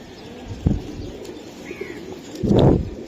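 A racer pigeon coos in two low, throaty bursts, one brief early and a fuller one near the end, with faint chirps and a light wing rustle between, no talking.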